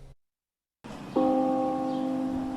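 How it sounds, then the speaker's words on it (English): A single church bell strike rings out clearly after a brief silence, its tone sustaining and slowly fading. "The tolls of a church bell"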